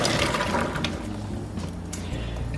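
Carrots drop into a pot of boiling water on a kitchen stove, a splashy burst of bubbling and churning liquid that settles into a steady, fairly quiet boil.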